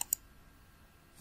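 Two quick mouse clicks close together at the start, sharp and near, followed by quiet room tone.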